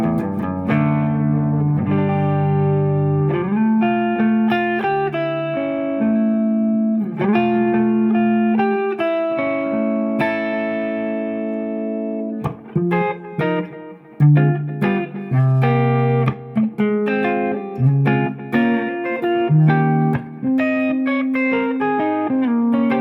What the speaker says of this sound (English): Still the same neck pickup, Les Paul, and compressor in front of it.